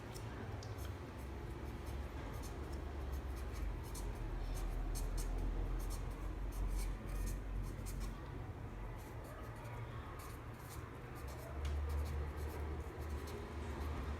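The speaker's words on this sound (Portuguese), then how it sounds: "Então eu vou escrever isso aqui." Writing by hand, a pen or chalk moving across a surface in brisk, scratchy strokes that run steadily for the whole stretch under a low background rumble, with no talking.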